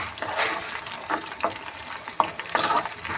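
Mustard seeds frying in hot oil, a close, busy sizzle with crackling bursts and occasional stirring scrapes against the pan.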